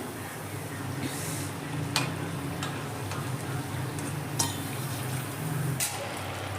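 Double-fried potato sticks are lifted out of a pan of hot oil: a steady, low sizzle and bubbling runs throughout, broken by a few sharp metallic clicks of utensils against the pan.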